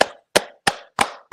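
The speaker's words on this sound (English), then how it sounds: "Clap it up." Five sharp hand claps ring out alone in a steady, evenly spaced rhythm, crisp and close, each fading quickly.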